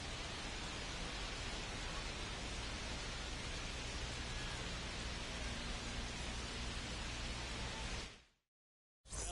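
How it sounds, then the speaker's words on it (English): Steady rain pours in a baseball video game during a rain delay, a dense, even hiss that fills the scene alone before cutting out briefly near the end. "The rain is here, and it doesn't look like it's going away anytime soon."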